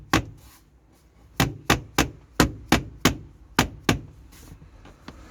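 About a dozen sharp hammer blows ring out close by in an uneven, steady rhythm after a brief quiet start, each strike with a short decay, while refitting the headlining in a Rover 45 car.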